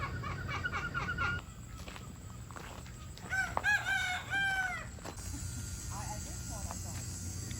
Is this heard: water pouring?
no